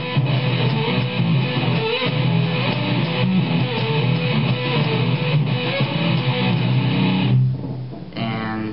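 Two electric guitars with full distortion play a rock riff: a heavy second guitar layered with the lead line in a dense, steady pattern that drops out briefly near the end and then resumes faintly.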